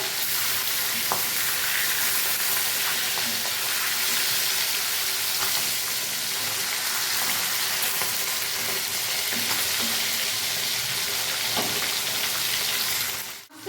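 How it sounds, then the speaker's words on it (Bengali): Steady, dense sizzle of hilsa fish lightly frying in hot oil, continuous and close, with a few small pops and clinks scattered through. "আমি এবার অপর পাঁচটা ভেজে নেবো।"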